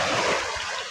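Surf at Balatan beach in Camarines Sur rushes in a steady, loud broadband wash, close to the microphone with some wind buffeting and no voices.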